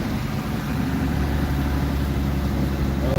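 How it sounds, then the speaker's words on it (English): A passing car without a muffler gives off a loud, raw exhaust rumble, a steady low growl that fills the clip with no talk over it. "This car needs a muffler."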